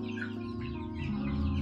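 A young Yudistira chicken, a meat breed about six weeks old, clucks and calls in short repeated notes, close and fairly loud, with no voices.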